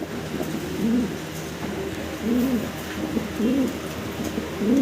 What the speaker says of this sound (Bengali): এক্সিবিশন কবুতর দেখাচ্ছি